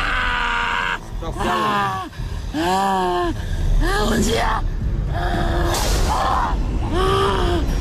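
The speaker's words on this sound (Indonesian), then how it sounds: "mediator pertama kami sangat kesakitan dan teriak-teriak seperti ini" A man groaning and crying out in pain in long, strained, wavering moans, close and loud, one after another in a tense spooky setting by a reservoir dam, with a few words spoken between.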